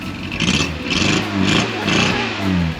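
A car fitted with a full stainless-steel competition exhaust that has a hole in it revs hard in three or four throaty, rasping bursts, close and loud, with no talking.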